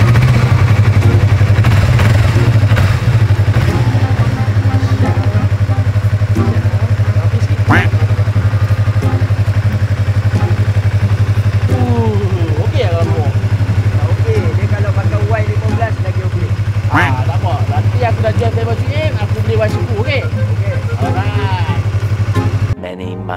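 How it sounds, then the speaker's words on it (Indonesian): A large motorcycle engine idles steadily and close up as a loud low drone that runs almost the whole time, with people talking over it and an abrupt cut at the end. "Besar motor cik."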